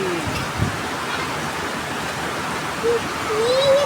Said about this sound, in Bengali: ওরে ঝুম বৃষ্টি ঝুম বৃষ্টি